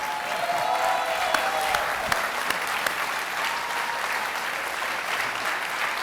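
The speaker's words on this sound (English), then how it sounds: "Y'all give a round of applause to Sarah Ryan." An event audience gives sustained, even applause throughout, a dense wash of clapping with a few sharper individual claps standing out.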